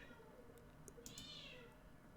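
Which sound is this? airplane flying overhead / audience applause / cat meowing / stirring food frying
cat meowing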